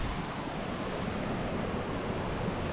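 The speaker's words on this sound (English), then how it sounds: "Another waterfall." Waterfall on the Annapurna Base Camp trek in Nepal, heard as a steady, loud broadband rush of falling water that fills the scene evenly throughout, with no voices over it.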